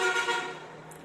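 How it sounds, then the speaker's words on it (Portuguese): Car horns honking from passing traffic on an avenue, a brief toot or two that fades quickly, heard from some distance. "o pessoal passa lá na avenida buzinando"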